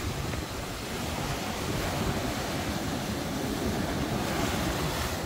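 High ocean waves roll onto Piedade beach in a continuous loud roar of surf, with wind buffeting the microphone throughout.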